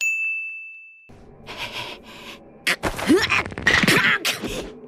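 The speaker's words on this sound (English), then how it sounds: "Walnut cracking sound effects also used for popping back in a dislocated shoulder." A walnut-cracking sound effect stands in for a dislocated shoulder being popped back in, in the Dragon Ball Super anime: a clear ringing tone fades, then scratchy rubbing and a burst of sharp, crunchy cracks follow close up.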